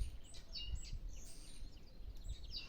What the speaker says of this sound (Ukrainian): І мої шпаки не злякалися дощу, а прилетіли ось знову до нас.